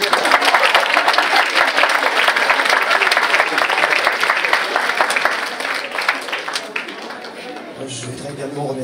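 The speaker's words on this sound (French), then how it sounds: "On peut l'applaudir." Sustained audience applause at an inter-high-school pleading competition in Martinique, dense and steady for several seconds, then easing slightly toward the end.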